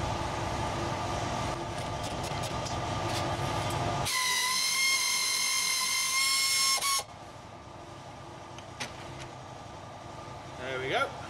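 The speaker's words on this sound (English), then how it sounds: "I'm taking out the big bolt that holds the back bushing in" A power tool whines loudly for a few seconds while the big rear bushing bolt comes out of a Land Rover Freelander axle mount, set against steady garage noise and a voice.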